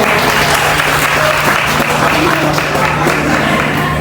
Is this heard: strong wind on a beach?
no